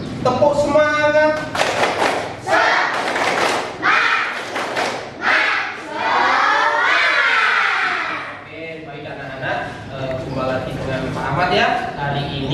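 Children in an Indonesian primary school classroom stand and perform the tepuk semangat clapping chant, rhythmic bursts of hand claps mixed with chanted voices, loud and close throughout.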